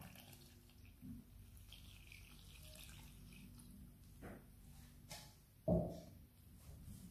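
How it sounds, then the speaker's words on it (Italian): Water is poured into a bowl of flour and instant yeast for a zucchini fritter batter, a faint soft trickle with a few light splashes and a louder knock near the end. "E ora aggiungiamo tutta l'acqua."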